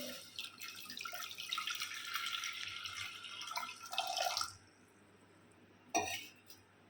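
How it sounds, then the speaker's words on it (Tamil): Water pours and trickles into a pressure cooker sitting on the stove while bamboo shoot chicken is being cooked, a steady splashing flow for several seconds that stops, then a brief metallic clink near the end. "இப்போ வந்து தண்ணி சேர்த்திக்கலாம்."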